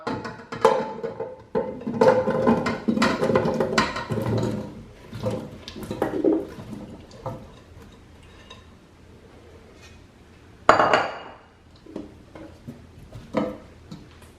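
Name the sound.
potatoes being added to a pot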